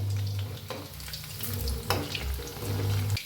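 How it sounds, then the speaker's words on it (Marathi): Chicken 65 pieces deep frying in hot oil, a steady close crackling sizzle with a low hum running under it and no voices. "चांगले असे तळून घ्या आणि गॅस कमी करा म्हणजे आतपातून मस्त असं तळलं जाते"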